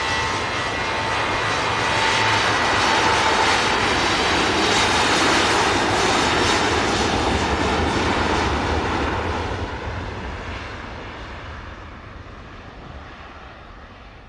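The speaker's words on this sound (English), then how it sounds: "Ryanair off to Milan." A Ryanair jet taking off from Manchester Airport, its engines roaring loud and broadband for several seconds before gradually fading as the aircraft climbs away.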